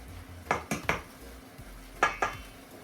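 A mixing spoon knocking and scraping through cake mixture in a bowl, five sharp clinks in two groups, close but fairly quiet over a low background hum.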